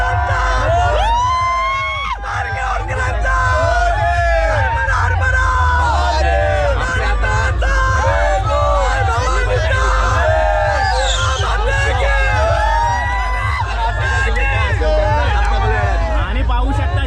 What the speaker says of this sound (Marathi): आणि पाहू शकता जल्लोष